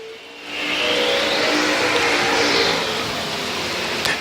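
Race car on a qualifying lap at a state racing event, driven by Dalton Cook in the 1D car, sweeping past with a loud, sustained engine roar that swells and fades over about four seconds.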